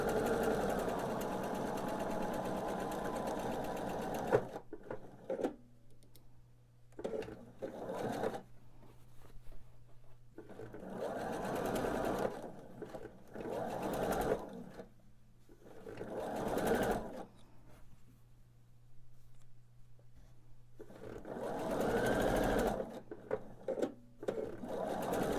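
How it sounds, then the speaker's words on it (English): A sewing machine stitching quilt blocks together for a quilt top, running in steady whirring bursts that stop and restart several times, close and fairly loud. "So I'm just going to go ahead and continue sewing my blocks together"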